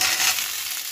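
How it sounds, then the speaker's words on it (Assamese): Tomato and onions frying together in a pan give a loud, steady, close-up sizzle with no pauses and no voices. "এতিয়া বিলাহীটো ভাজিম ইয়াৰ লগত।"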